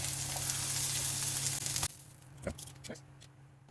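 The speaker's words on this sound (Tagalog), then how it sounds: "Same thing, stir fry lang natin yan." Carrots stir-fried in a pan, giving a steady loud sizzle for about two seconds, then quieter frying broken by a few clinking stirs and scrapes.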